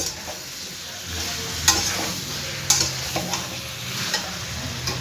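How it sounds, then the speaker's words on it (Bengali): Green jackfruit and potatoes fry with spices in a pan, sizzling steadily while a spoon stirs and scrapes, with a few sharp clacks against the pan and no talking. "আলুটাও এর মধ্যে আমি দিয়ে দেবো দিয়ে দুটোকে খুব ভালো করে একসাথে মশলার সঙ্গে কষিয়ে নেব"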